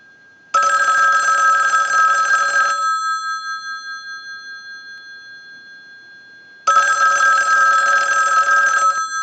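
A Western Electric 554 rotary wall telephone's mechanical bell rings loud and close in two long bursts of rapid metallic jangling, separated by a few seconds of silence, as a test analyzer sends a ring cycle.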